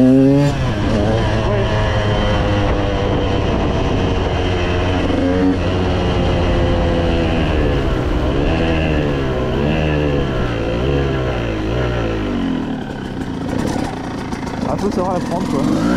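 A KTM supermoto motorcycle engine revs loudly and close, rising and falling through repeated throttle blips, with someone talking over it.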